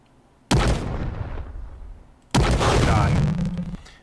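Two sharp cannon blasts from a tank in a homemade tank video game, each hitting suddenly and then rumbling and decaying over about a second, loud and close.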